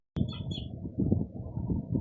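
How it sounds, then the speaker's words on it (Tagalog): Birds call early in the morning right outside, with a sudden sharp chirp followed by a dense, continuous chatter of small bird sounds at moderate volume. "ang ingay ng ibon"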